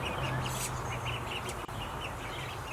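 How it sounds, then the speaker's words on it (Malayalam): Ducklings give small, faint peeping quacks that repeat in a rapid series over a loud, constant hum of background noise. "അതിൻ്റെ ഇടയ്ക്ക് നമ്മുടെ താറാവ് കുഞ്ഞുങ്ങൾ ഇങ്ങോട്ടേക്ക് വന്നിട്ടുണ്ടായിരുന്നേ."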